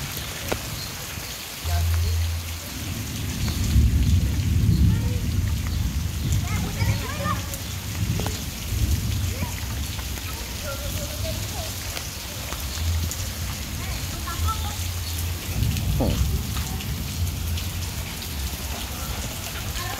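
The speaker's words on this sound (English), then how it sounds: "Yep, it just started raining on a very hot day." Rain falling on a very hot day and running off a house roof, a steady hiss of drops and runoff, with people talking faintly at moments.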